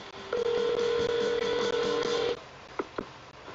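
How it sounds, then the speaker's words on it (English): Telephone voicemail tones play: a long steady electronic beep of about two seconds, followed by two short clicks or blips, with no talking. "It's time to check Adam's voicemail"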